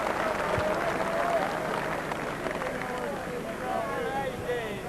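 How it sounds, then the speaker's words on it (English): A snooker crowd at a 1985 final applauds a well-played shot, steady dense clapping filling the whole stretch at an even, fairly loud level, with a murmur of voices and some talk mixed underneath. "An excellent ball, gets full applause from the crowd."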